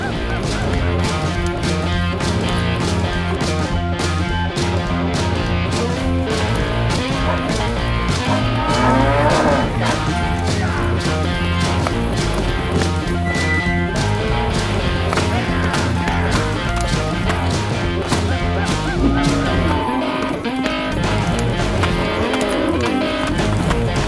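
Cattle on a ranch, with loud, overlapping moos and lowing from several animals running continuously throughout and one drawn-out call rising near the middle.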